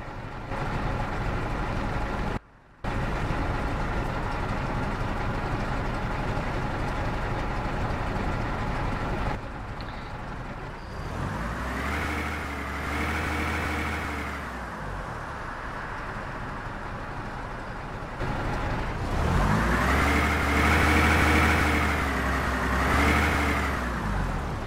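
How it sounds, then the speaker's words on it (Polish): A Leyland Fleetline SF3-31 bus engine in the OMSI bus simulator game rumbles steadily, revving up in two swells with rising and falling pitch, loud and close, with no voices. "No i praca silnika."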